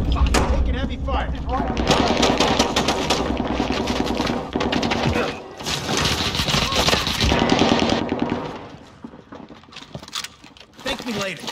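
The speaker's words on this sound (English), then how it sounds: "you're taking heavy fire" Heavy sustained automatic gunfire in Call of Duty: Warzone during a resurgence quads match, rapid dense bursts with brief pauses that fade toward the end, while a voice speaks over the shooting.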